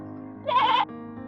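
A single sheep gives one close, wavering bleat lasting under half a second over a quiet background.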